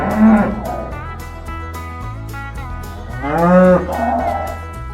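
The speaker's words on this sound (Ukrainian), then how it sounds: "Корівки мукають, коли кличуть малят або хочуть їсти." A cow moos twice, long drawn-out lowing calls, close and loud, with quieter bovine sounds between them.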